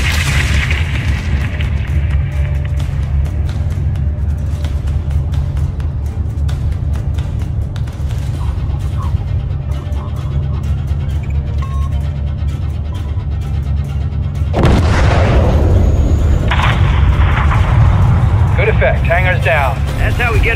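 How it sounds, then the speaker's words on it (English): A missile strike levels a hangar in Modern Warfare 3, a deep continuous rumble of explosion and engine drone that swells louder and harsher partway through. "have your man drop a missile on that hangar"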